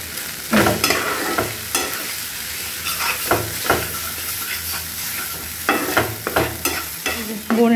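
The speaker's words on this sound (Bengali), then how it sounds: "কড়ার মধ্যে ডিম আর পেঁয়াজটা দিয়ে ভেজে নিচ্ছি" Egg and onion frying in a wok, a loud close sizzle broken by frequent scraping stirs and utensil knocks in an uneven rhythm, without voices.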